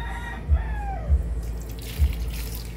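Water is poured onto a potted snake plant indoors, a close gurgling pour with a few soft thuds, while a rooster crows in the background.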